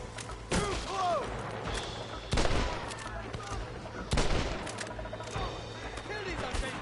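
Gunfire in the video game Red Dead Redemption, with three or four distinct loud shots spaced a second or two apart and echoing, heard alongside shouting voices.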